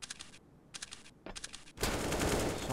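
Bursts of automatic gunfire in Counter-Strike: Global Offensive, several short rapid volleys separated by brief pauses, then a louder sustained stretch of shooting and noise, with no talking.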